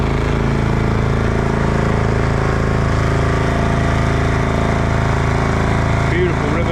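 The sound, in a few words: small boat engine working against river current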